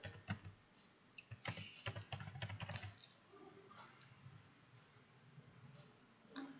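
Quiet typing on a computer keyboard, with a burst of rapid key clicks in the first three seconds, then sparser taps trailing off.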